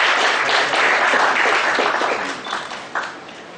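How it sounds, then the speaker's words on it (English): Seminar audience applauding at a talk on GST amendments: a full, fairly loud round of clapping that thins out near the end, leaving a few scattered claps. "Round of applause, ladies and gentlemen."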